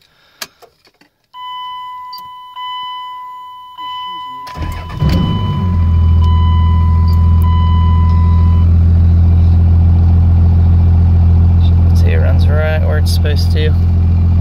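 A turbocharged truck diesel cranks and fires up, then settles into a loud, steady rumbling idle that fills the rest of the clip, with a long electronic beep before the start and a person speaking briefly.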